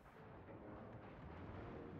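Heavy naval guns boom in World of Warships as a US battleship, the New York, fires a salvo, a dense low rumble that swells and holds steady across the moment.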